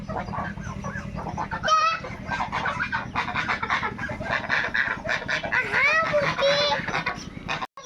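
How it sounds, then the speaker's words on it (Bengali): Loud, dense honking and clucking from a group of Muscovy (Chinese) ducks, continuous and close, with harsh nasal calls overlapping throughout. "এই তো আমাদের চীনা হাঁস"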